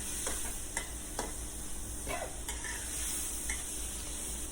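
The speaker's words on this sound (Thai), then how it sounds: "ผัดจนกว่าแหนมจะสุก" Steady sizzling from fermented beef stir-frying in a hot wok, with occasional scraping and clinking of a utensil stirring, continuous and close, no voices.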